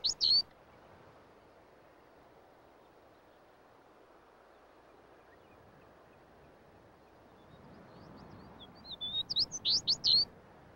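A Smith's Longspur sings in open country, with a short burst of sweet chirps at the start, then quiet ambience, then a quicker run of bright whistled notes near the end, fairly close and clear.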